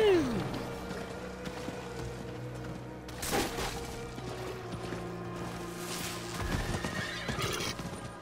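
A horse gallops in Diablo IV, with rhythmic clip-clop hoofbeats and neighs over a busy game soundscape, sustained at moderate loudness, with a voice talking over part of it.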